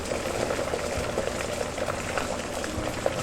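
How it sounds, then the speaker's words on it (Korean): A pot of water with pasta noodles bubbles at a steady rolling boil, with continuous close gurgling and popping and a few louder bursts near the end. "그럼 같이 면 한번 삶아 보시죠."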